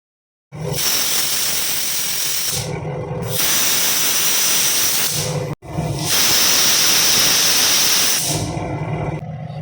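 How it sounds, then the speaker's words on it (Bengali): A pressure cooker cooking daliya with vegetables lets off loud, continuous hissing steam bursts, two long blasts separated by brief pauses, close and alone with no talk. "এবার প্রেশার কুকারটা আটকে আমি তিনটের মতন সিটি দিয়ে দেবো"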